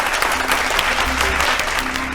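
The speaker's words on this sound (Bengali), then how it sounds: "হাততালি জোরে" Studio audience clapping on a family game show, a dense, loud, steady burst of applause filling the whole moment with no one speaking over it.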